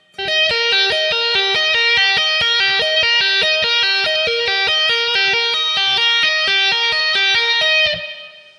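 Electric guitar with distortion and effects plays a fast tapped triad sequence, run in reverse, as a rapid stream of even notes. It sounds loud and close and sustains for about eight seconds before cutting off.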